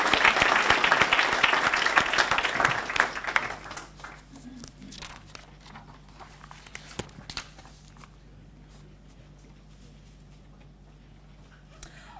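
Indoor audience claps for a fellowship recipient at a presentation ceremony, a dense burst of hands that fades after a few seconds into scattered claps, rustling and room quiet.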